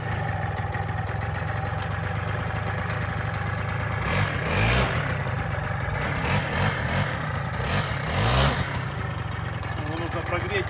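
Small two-stroke engine of a children's Yamaha quad bike starts with a kick and runs at a steady idle with a couple of brief revs, close by, while people talk over it.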